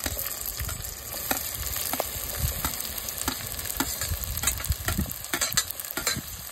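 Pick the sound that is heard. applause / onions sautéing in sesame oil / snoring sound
onions sautéing in sesame oil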